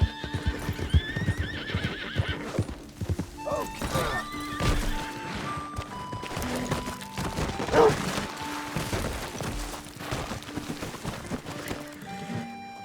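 A rare horse in the Red Dead western video game gallops with steady clip-clop hoofbeats and neighs loudly several times, over a busy game soundtrack of music and ambience.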